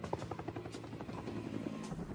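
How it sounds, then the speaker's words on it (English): A helicopter racing about 20 yards above flat ground, its steady rotor thump and turbine drone filling the air loudly and continuously with no voices. "The helicopter raced 20 yards off the ground to avoid enemy radar."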